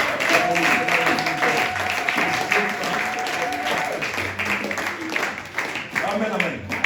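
A church congregation applauding and cheering for Jesus during a sermon, steady sustained clapping from a crowd with voices mixed in throughout.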